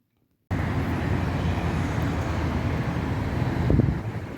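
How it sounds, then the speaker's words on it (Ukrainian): Steady broadband rumble of nearby road traffic, a continuous wash of passing cars with no voices, swelling slightly near the end. "Якщо вам щось чутно, тут поряд машини"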